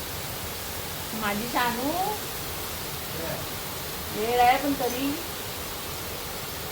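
Heavy downpour drumming on tin roof sheets during a power cut, a steady dense roar that never lets up while someone talks over it at moments.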